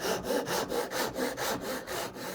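A hand saw rasps through wood in steady back-and-forth strokes while cutting a dovetail mortise joint, about eight regular passes, close and fairly loud with no voices.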